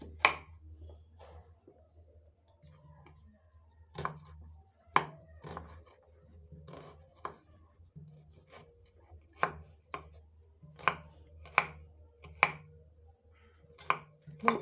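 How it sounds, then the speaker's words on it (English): A knife chops onions into small pieces on a board, about a dozen sharp, close taps in a loose, uneven rhythm over quiet background. "So I'm going to cut it into small pieces."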